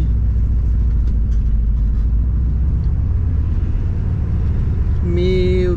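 Volkswagen Kombi van reversing on a street, a close, steady low engine rumble throughout, with a brief tonal whine near the end.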